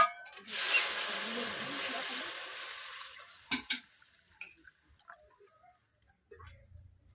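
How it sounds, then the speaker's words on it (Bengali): Water pours into a kadai set on a lit clay stove, a broad steady rushing splash lasting about three seconds, followed by a few sharp knocks and faint scattered clinks in a quiet kitchen. "আমি কড়াইতে জল দিয়েছি।"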